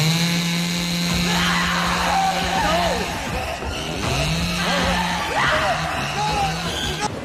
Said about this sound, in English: Then a chainsaw.